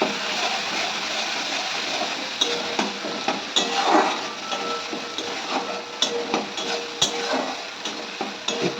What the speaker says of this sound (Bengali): আমি মশলাটা একটু ভেজে নেব